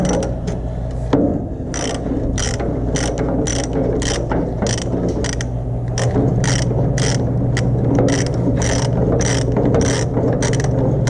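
Ratchet loosening bolts on a Thomas bandmill sawmill with a Duromax engine, heard as a loud steady series of quick clicking bursts, about a dozen rhythmic strokes over a constant low mechanical hum.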